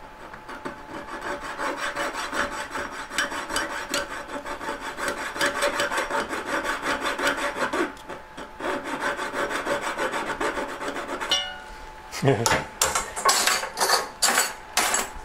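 A knife blade works into a tree branch to split it, first with long steady rubbing and scraping, then a quick series of sharp cracking and splintering bursts as the wood is pushed open near the end.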